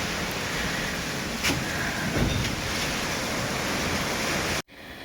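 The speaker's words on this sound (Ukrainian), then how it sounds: "Дує, як бешене." Strong wind blows steadily outdoors in a garden, a loud continuous rush with a couple of stronger gusts, ending in a sudden cutoff near the end.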